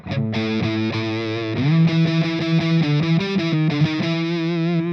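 An electric guitar through one side of a Flattley Outlaw dual overdrive pedal plays a loud, distorted, bass-heavy riff of quick repeated notes and slides, heard alone.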